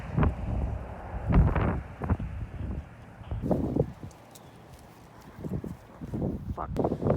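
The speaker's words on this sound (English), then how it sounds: "it's pretty windy" Gusty wind buffets the microphone on the rocky Peggy's Cove coast, coming in uneven low rumbling bursts separated by quieter moments, with faint sounds in the background.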